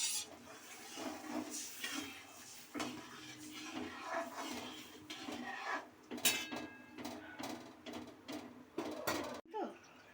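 A bowl is rinsed with water in a home kitchen while chilli chicken is being cooked, giving faint, close clinks and light scraping against a quiet background.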